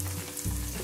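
Sliced onion frying in a pan until half brown for a roasted chilli chutney, giving a steady close sizzle with a low hum throughout and no voices.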